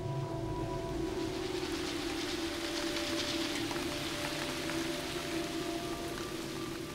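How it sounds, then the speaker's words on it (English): A heavy wet-season downpour in iguana habitat hisses as a steady, dense wash of rain, unbroken and even throughout, with no voices. "a downpour"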